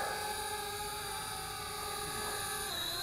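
A small folding selfie drone takes off and climbs, its propellers giving a steady high-pitched whine with layered harmonics that holds close and even, then shifts in pitch near the end.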